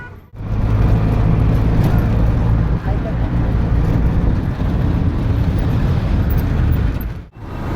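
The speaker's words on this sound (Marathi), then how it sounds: "ऑटोमध्ये बसलो आम्ही." An auto rickshaw on the road: a steady, loud engine drone with road and wind noise that holds for several seconds, dipping briefly near the start and again near the end.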